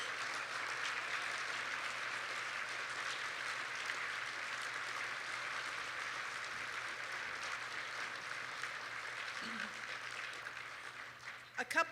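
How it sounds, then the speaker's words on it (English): Sustained audience applause for the staff at a charity banquet, steady broadband clapping from a large room that holds for about twelve seconds before tapering, with faint voices underneath. "could I have you give them a round of applause for all their hard work?"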